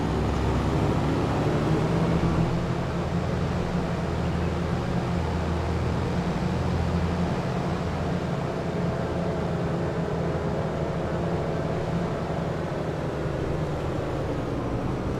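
A combine harvester engine in the Farming Simulator 25 video game runs as a loud, steady low drone throughout, unchanging and with no voices over it.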